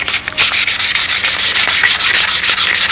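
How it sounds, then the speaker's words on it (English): Sandpaper works over the wing of a P-51 model in quick, regular back-and-forth strokes, a loud rhythmic rasp heard close up and alone. "I'm sanding the wing out"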